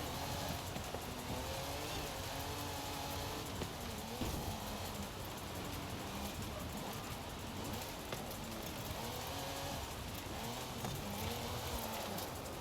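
A car in a video game revs with a continuous, wavering engine roar. The pitch rises and falls over steady broadband road or rain-like noise, fairly loud throughout, with no talking.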